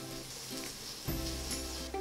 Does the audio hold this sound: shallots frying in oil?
yes